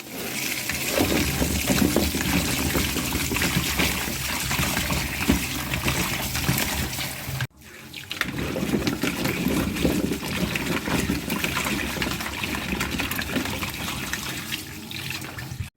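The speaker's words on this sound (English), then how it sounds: "So next step is to wash our potatoes." Running water splashes continuously in a sink as potatoes are washed for mashed potatoes, a loud steady flow with a brief break midway before resuming.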